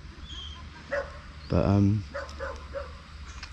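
A dog at a fishing lake in Thailand gives a startled bark and a short whimpering yelp, nearby and loud, with someone talking briefly around it.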